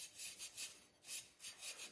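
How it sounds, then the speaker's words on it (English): A Scotch-Brite pad scrubs the surfaces of fabricated motorcycle racing exhaust pipe inlets before welding, giving a series of close, rhythmic abrasive rubbing strokes with brief pauses between them and no talking. "we're just gonna Scotch-Brite the surfaces here and get ready for welding"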